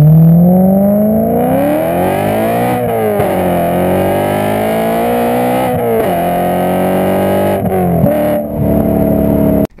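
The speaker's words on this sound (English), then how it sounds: "This is before the supercharger, but you could just hear how beautiful this thing sounds." A 2008 BMW E92 M3 in stock, non-supercharged form accelerates hard through several gears, its V8 exhaust rising in pitch with brief dips at each shift, loud and close throughout.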